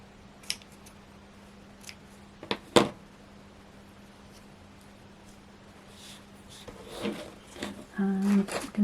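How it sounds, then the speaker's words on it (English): Scissors snip craft ribbons shorter at a crafting table, a few short sharp cuts near the start followed by rustling and handling noises, with no talk over them. "Actually, might cut those a little bit shorter."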